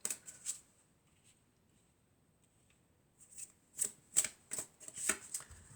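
Tarot cards are shuffled and drawn in a few crisp, close riffling bursts, one early on and then a cluster of quick flicks and snaps toward the end after a near-silent stretch.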